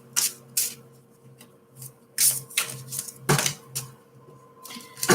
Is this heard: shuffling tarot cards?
yes